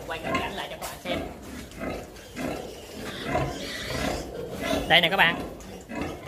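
Litter of eleven two-blood crossbred piglets grunting and squealing as they jostle to nurse from the sow, a busy, continuous farrowing-pen chorus with someone talking over it.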